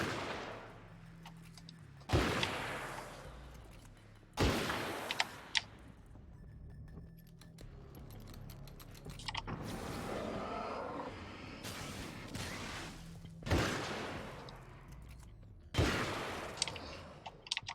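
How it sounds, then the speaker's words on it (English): Hunting rifle shots in the video game Alan Wake's American Nightmare, about six loud single cracks spaced a couple of seconds apart, each trailing off, with game ambience between. "Your hunting rifle is a little bit slower,"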